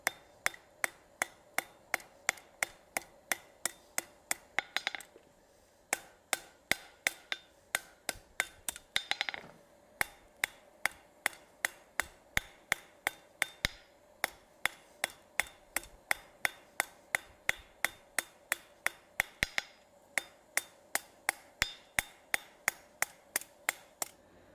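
Steady, evenly spaced hammer blows ring out on an anvil as a steel bar for a hand towel bar is drawn out, dozens of sharp metallic strikes in a fast, regular rhythm with a few brief pauses, loud and close.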